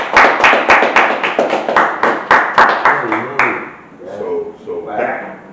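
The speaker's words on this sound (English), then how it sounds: "Clap it up for that kid." Audience clapping at a live in-person interview, a burst of sharp, fairly close claps for about three seconds that fades out as a voice and crowd murmur take over.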